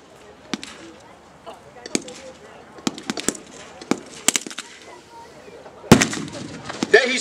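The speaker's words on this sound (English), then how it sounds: "The first mortar is slightly overshooting the area of the enemy position." Mortar rounds are fired and land on an enemy position: a series of sharp, scattered cracks and thumps at irregular intervals, some distant and faint, with a heavier, louder burst of blasts near the end.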